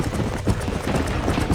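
Horses gallop in the Red Dead Redemption video game, with rapid, dense hoofbeats rolling continuously and loudly and no speech over them.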